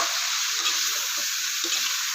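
Ground meat frying in a pan as broccoli goes in, a steady close sizzle with a few soft stirring bumps and no voices.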